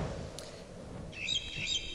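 A bird in the video game The Dark Eye gives a couple of high, thin chirps near the end, faint over a low background hum, with no talking.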